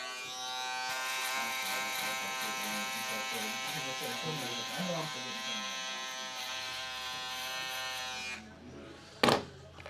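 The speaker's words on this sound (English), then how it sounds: "Come back through with our shaver shaper." An electric shaver buzzes steadily up close while shaping a beard fade, a dense continuous hum for about eight seconds that cuts off, followed by a brief clatter.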